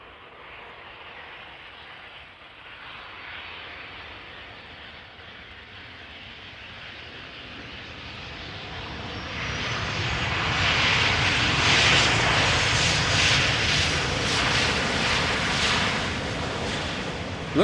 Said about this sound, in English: 737 arriving from Newcastle.